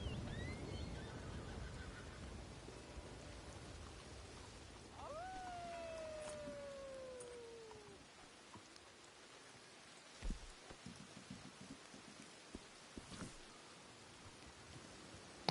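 Steady rain falls across a rooftop scene in Red Dead Redemption 2 Online set in Saint Denis, a continuous hiss with a few sharp thuds and a horse-like whinny partway through, no talking.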